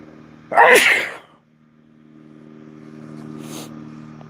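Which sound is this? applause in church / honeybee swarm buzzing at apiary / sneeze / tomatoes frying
sneeze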